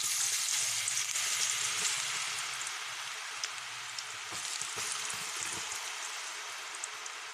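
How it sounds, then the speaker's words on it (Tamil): Grated tapioca soaked in masala frying in hot oil for powdered tapioca chips, a steady, bright sizzle that runs evenly with a few small pops and no talking. "இப்போ போட்ட துருவல் வந்து ஒரு பக்கத்தில் நல்லா ஃப்ரை ஆகிடுச்சு"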